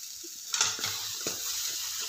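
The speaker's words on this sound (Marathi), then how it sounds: "थोडंसं असं एक सेकंदभर भाजून घ्यायचं" Pav bhaji masala and turmeric roasting briefly in hot oil, a steady close sizzle with a spoon scraping and stirring through the pan, a couple of sharper clinks along the way.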